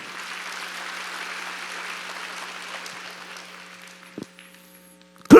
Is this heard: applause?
yes